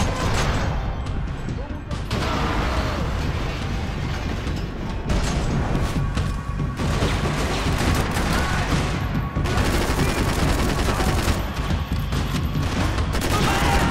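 Dense gunfire in the Xbox 360 game Max Payne 3, with rapid rattling shots and booms running almost without pause, and a voice talking over the fight.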